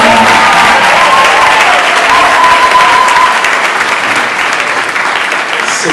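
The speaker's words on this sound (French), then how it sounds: "Est-ce qu'on peut acclamer le Seigneur dans ce lieu?" Loud sustained applause from a church congregation acclaiming the Lord, thick continuous clapping with faint cheering voices underneath, tapering a little near the end.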